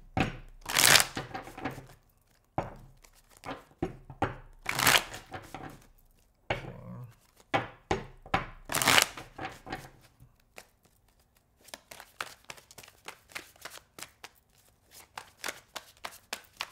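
Tarot cards being shuffled by hand, a series of crisp riffling bursts and soft slaps and taps, close and fairly quiet, with pauses between handfuls.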